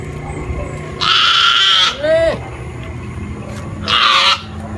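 Goat bleating in two loud, wavering calls about three seconds apart, with a softer, higher animal cry between them and faint background noise.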